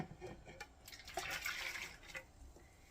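A cup of boiling hot water is poured for making orange Jell-O, producing a short, close splashing stream of liquid with no talk.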